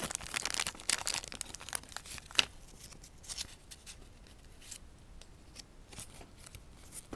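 A paper insert from a Tomica die-cast toy car box, a Nissan X-Trail, is handled close by. Quick rustles, crinkles and scrapes come in uneven bursts, busiest early on, with one sharper snap before the handling thins out to soft intermittent shuffling.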